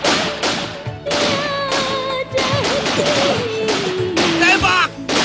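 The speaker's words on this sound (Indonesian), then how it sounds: "Tembak terus!" In a police shootout from an Indonesian TV film, gunshots crack out as a rapid series of sharp bursts in quick succession, loud and close, mixed with dramatic music and shouting voices.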